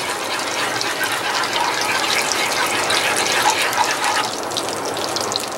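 Butter bubbling and sputtering in a pan as its water cooks off, a close, constant crackling fizz that holds steady throughout.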